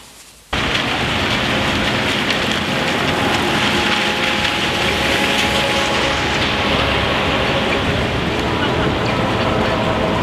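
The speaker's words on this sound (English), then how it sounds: "it's been raining solid, and my hands are frozen to the bone" Steady heavy rain pours down continuously, a dense, loud hiss that starts abruptly and holds without a break.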